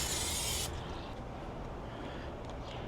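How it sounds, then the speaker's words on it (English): A short, loud burst of cooking spray hisses onto the hot grates of a Coleman RoadTrip 285 portable propane grill, cutting off sharply after under a second and leaving a low background rumble. "We'll throw some cooking spray on here."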